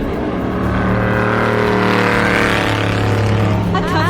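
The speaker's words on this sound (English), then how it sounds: "I'll leave you with the sound of the cars going by" Race cars at Le Mans 2012 roar past loudly, the engine note sustained and shifting as they go by, one after another in a continuous wash.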